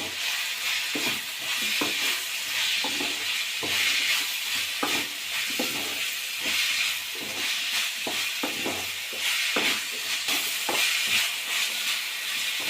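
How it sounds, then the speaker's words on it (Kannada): Mushrooms for a garlic mushroom fry being stirred in a hot pan: a steady, close sizzle with frequent irregular scrapes and clicks of the spoon against the pan throughout. "ಈ ಟೈಮಲ್ಲಿ ಮಶ್ರೂಮ್ ಹಾಕ್ಕೊಳ್ಳಿ. ಹಾಕಿ ನೀಟಾಗಿ ತಿರುಗಿಸ್ಕೊಳ್ಳಿ."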